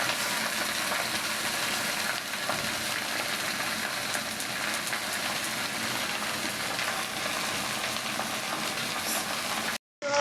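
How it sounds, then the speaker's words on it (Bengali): Jute greens (pat shak) fry in a pan on a home stove, giving a steady, dense, close sizzle that hisses evenly for about ten seconds before cutting off abruptly. "পাট শাকটা ভাজি করে নিতেছি, লাল হয়ে গেছে, দিয়ে দিই"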